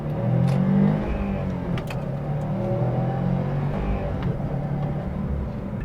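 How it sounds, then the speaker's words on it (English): The engine of a 2021 Subaru WRX STI flares briefly as it blips for a rev-matched downshift, then settles back into a steady drone. The sound is close and moderately loud, with no talk over it. "Rev match downshifts are super easy and super satisfying and rewarding"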